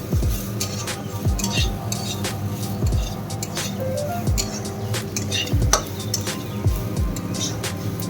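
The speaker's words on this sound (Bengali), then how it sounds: "এদিকে আমি ডালটা একটু ভেজে নিচ্ছি" Dal being lightly fried in a pan while cooking khichuri on a rainy day: soft continuous frying hiss under repeated clinks and scrapes of a utensil stirring against the pan, fairly close.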